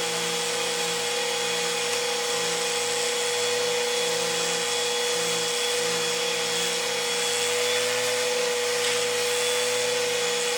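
A Flowbee haircut attachment runs on a vacuum cleaner, giving a constant loud motor whine and airy rushing hiss with a faint pulsing low hum, unbroken for the whole stretch.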